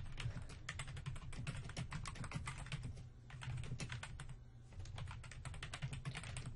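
Rapid, steady typing on a computer keyboard while a discussion forum description is entered, the close clacking keystrokes running continuously with a brief pause near the middle and no voices.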